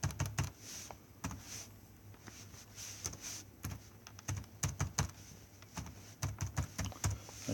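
Quick, light key presses on a calculator as numbers are entered, a steady run of close, soft taps in small clusters with no talking.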